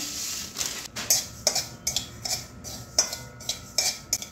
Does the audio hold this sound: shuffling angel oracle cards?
no